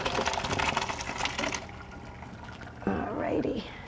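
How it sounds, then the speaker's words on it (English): Steaming hot pasta water rushes out of a pot into a colander, a loud close gushing pour that drops off and returns briefly. "you want to empty it into the colander. It's super steamy and hot, so always pour away from you."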